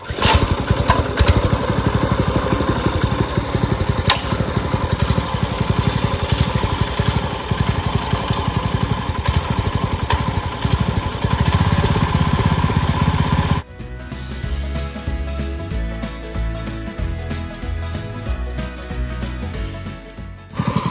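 A small engine assembly runs with one of three gear teeth rubbing, giving a loud, rapid, pulsing mechanical chatter. Partway through it drops to a quieter, rougher idle.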